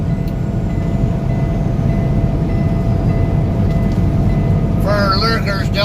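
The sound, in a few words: truck buzzer sounding like a railroad crossing bell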